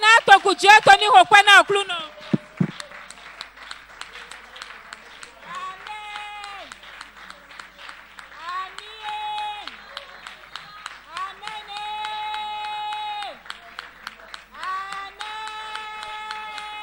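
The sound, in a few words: congregation applauding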